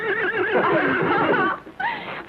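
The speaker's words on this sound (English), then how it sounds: "Isn't he pretty, Joan? A blonde horse" A blonde horse neighs loudly and close by, a long wavering whinny that drops off, then a shorter second whinny follows.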